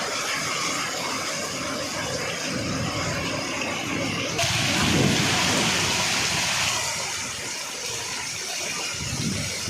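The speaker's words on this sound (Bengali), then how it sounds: "যেন কিয়ামতের আলামত চলছে, এত পরিমাণ বৃষ্টি" Very heavy rain pours down in a dense, loud, continuous roar in a village in Paschim Medinipur, swelling briefly midway with a rumble of thunder.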